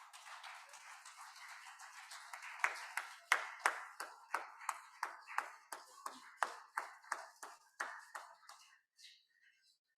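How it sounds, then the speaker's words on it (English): Scattered applause from a small audience at a Bhaktivedanta Institute summer school session in Kolkata, individual claps steady and distinct, fading out near the end with no voices over them. "I would request the audience to join hands to applaud the moment, please"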